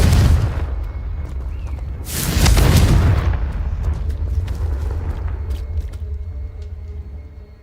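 A Confringo spell from the Hogwarts Legacy video game explodes in a deep, rumbling boom that swells midway, then fades into a long reverberating tail with scattered crackles and debris.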